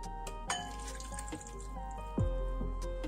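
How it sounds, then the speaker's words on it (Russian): Boiled water pours onto two slices of white bread with the crusts trimmed off, a soft, steady trickling and splashing in a quiet kitchen, with a faint clink partway through. "Хлеб замачиваем кипяченой водой."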